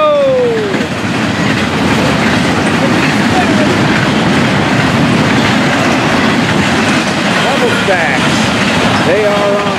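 A train rumbles past loudly and close, wheels clattering and squealing over the rails, with faint voices underneath.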